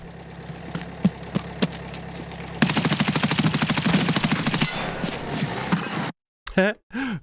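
Bursts of rapid gunfire in Escape From Tarkov, a few isolated shots followed by a long loud automatic volley, then brief quiet and a couple of electronic tones.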